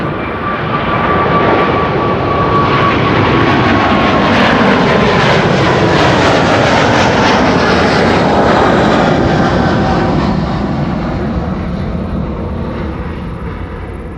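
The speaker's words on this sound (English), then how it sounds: "This was a KLM 777." A KLM Boeing 777 departs Amsterdam Schiphol, its engines giving a loud, sustained broadband roar that swells and then slowly fades as the jet climbs away, with no talk over it.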